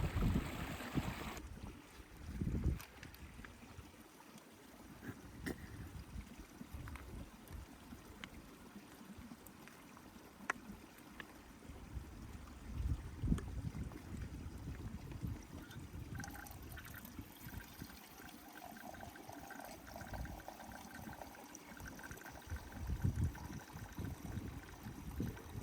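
A small mountain stream trickling beside a stone sheepfold on open fell, a faint continuous burble with occasional wind gusts and handling knocks close by.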